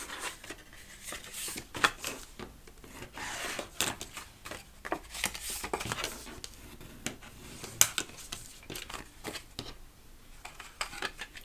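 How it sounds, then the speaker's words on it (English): Scored paper being folded and burnished, heard as close, soft rubbing and scraping strokes with light crinkles and taps, irregular and fairly quiet, with no talking. "we are going to fold and burnish all of our scores"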